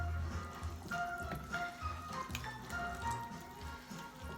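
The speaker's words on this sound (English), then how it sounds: "I'm just basically going to add, I'd say, about half a pint of water there." About half a pint of water poured into a cooking dish, a close, wet splashing trickle with dripping, bubbly detail that runs steadily for several seconds at moderate loudness.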